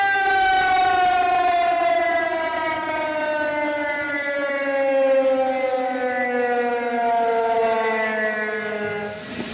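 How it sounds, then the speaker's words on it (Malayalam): A civil defense siren wails steadily as a trial signal before a human chain demonstration over the Mullaperiyar dam issue, its rising and falling tone loud and sustained with no voices. "ഇപ്പൊ ട്രയൽ എടുക്കുന്നതിന് വേണ്ടി സൈറൺ മുഴങ്ങുന്നതാണ്."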